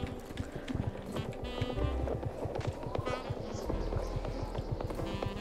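Horse hooves clip-clop steadily on icy ground in the Star Stable video game, a continuous run of soft rhythmic hoofbeats under game music with no talking.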